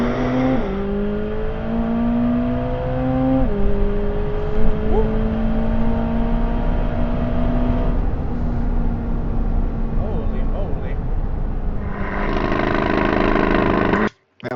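A Chevrolet Corvette ZR1X makes a launch-control start: a loud, close engine roar climbs steadily through the gears with brief dips at each shift, holds a high strained note, then swells once more before cutting off abruptly.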